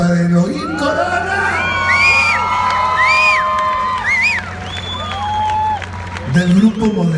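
A Zócalo concert audience claps and cheers in a sustained burst, with whoops and whistles rising above steady applause, while a voice speaks over the crowd.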